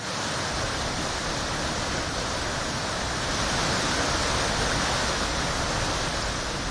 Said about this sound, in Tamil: கனமழை பெய்து வருவதால் தற்பொழுது தண்ணீர் ஆக்ரோஷமாக கொட்டி வருகிறது